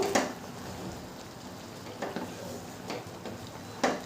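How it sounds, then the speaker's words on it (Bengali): Raw mango pieces being stirred in a pan for chutney, with a few distinct scraping clicks of the spoon against the pan over a quiet, steady background. "আমটাকে নেড়ে চেড়ে আমি আরও পাঁচ সাত মিনিট ঢাকা দিয়ে দেবো"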